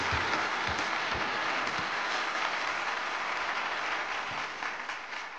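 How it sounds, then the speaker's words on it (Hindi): An audition audience for a singing contest breaks into steady applause, moderately loud and continuous with a few sharper claps, easing slightly at the end. "जोरदार तालियां।"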